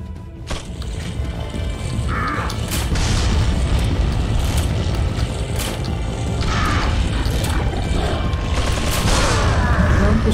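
Gunfire in the Resident Evil 4 video game on professional mode, repeated sharp shots and mechanical clanks over dense, loud, continuous combat noise.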